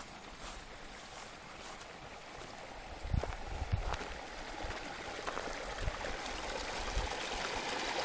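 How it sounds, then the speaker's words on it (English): Creek water running in summer on a ranch, a soft continuous trickling flow with occasional low bumps, fairly faint and steady without speech. "That's running water in the middle of summer."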